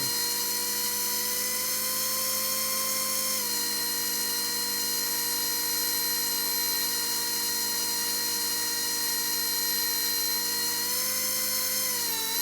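An RC BO-105 model helicopter's electric rotor whining at high speed as the throttle steps up, a steady loud tonal whine with a slight pitch shift, no talking.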